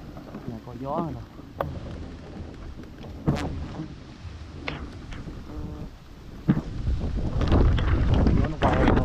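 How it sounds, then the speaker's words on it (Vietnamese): Wind blowing during a wild bee hunt in the Mekong Delta windy season, a rough gusty rumble buffeting the microphone and swelling louder toward the end, with people talking over it. "Gió rồi nè."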